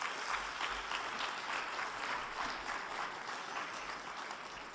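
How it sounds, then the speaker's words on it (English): Audience applause at an evening church and community gathering, a steady dense patter of many hands clapping throughout, moderately loud and fairly even, with no voices over it. "I think it would be wonderful if we could give them a round of applause of thanks."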